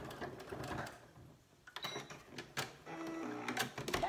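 A home sewing machine runs a short back stitch at the end of a straight hem on a cushion cover, a quiet whirring stop-start of needle strokes, close and soft with no talking.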